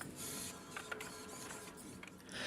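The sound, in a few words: 3D printer running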